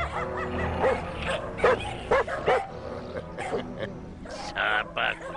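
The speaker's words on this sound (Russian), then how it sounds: "Собак у тебя, князь, много" A prince's pack of dogs in a medieval Russian film scene barks, yips and whimpers in repeated sharp bursts, several animals close by, with a voice briefly heard amid the din.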